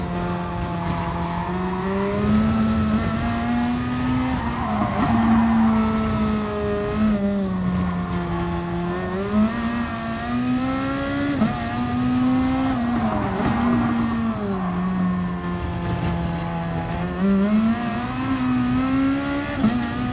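A race car on hard tyres in a racing game at Fuji, its engine droning steadily near and loud, pitch rising and dipping through gear changes and corners for the whole run.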